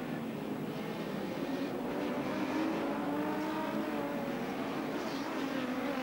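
Race cars including a Ford Mustang and a Toyota Corolla run on track during the 1986 Nissan Mobil 500, producing a steady, somewhat distant engine roar with wavering pitch as they pass.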